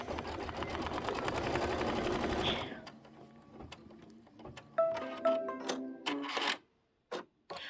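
A Kimberbell embroidery sewing machine stitches in a fast, steady mechanical chatter for a few seconds, then stops, followed by scattered clicks and small knocks from the machine.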